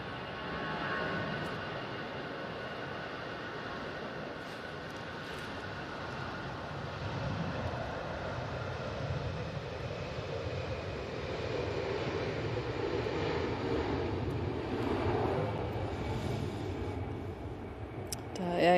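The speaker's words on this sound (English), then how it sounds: "EasyJet now rolling." An EasyJet airliner rolling for takeoff at Manchester Airport in stormy, windy weather, a distant engine roar that builds gradually and rises toward the end, with gusty background noise and no talk.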